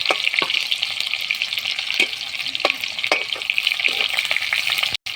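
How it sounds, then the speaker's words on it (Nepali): Onions fry in a pan for a local chicken curry, a steady close sizzle with intermittent scraping stirs throughout. "प्याज त रातो पारेर भुट्नुपर्छ"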